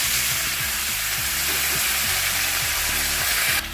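Potatoes and bottle gourd frying in hot mustard oil seasoned with dried chilli, cumin and bay leaf, giving a loud continuous sizzle with a steady crackling hiss close up and no talk.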